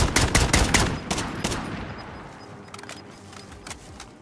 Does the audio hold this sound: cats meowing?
no